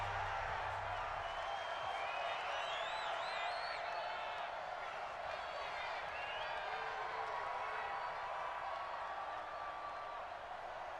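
Stadium crowd in Madden 21 football game, a dense, continuous roar of cheering with scattered whistles and whoops, steady and loud, while a commentator talks over it.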